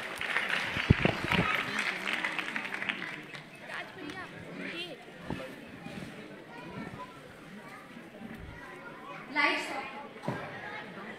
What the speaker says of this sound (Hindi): तो जोरदार तालियों के साथ उनका स्वागत